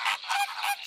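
Swan honking in a run of three nasal, goose-like calls in quick succession, close and loud with nothing else around.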